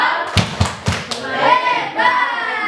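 Several sharp claps in a quick rhythmic burst from a group playing a hand-clapping game at a school event, then people chanting and speaking together.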